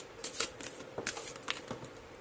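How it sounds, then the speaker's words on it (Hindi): Tarot cards shuffled and drawn by hand at a reading table, giving a run of soft papery riffles and flicks in short bursts, fairly quiet and close, with no talking. "मैं अभी आपके सामने बहुत सारे कार्ड्स निकालने वाली हूँ"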